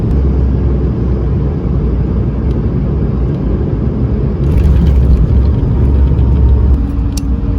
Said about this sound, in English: we came in for a nice smooth landing in Zurich